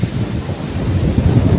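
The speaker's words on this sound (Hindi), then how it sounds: "कितनी बढ़िया हवा चल रही है।" Wind blowing at a fish farm, a steady low buffeting rumble that strikes the microphone throughout, loud and close.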